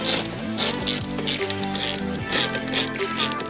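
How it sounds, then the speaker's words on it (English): T20 Torx driver backing two screws out of the radio unit in a 2021 BMW infotainment setup, a steady close ratcheting click with metallic mechanical chatter running continuously throughout. "We're then gonna use our T20, pop these two Torx screws out right here."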